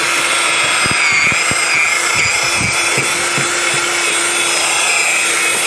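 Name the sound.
cordless electric drill mixing ice cream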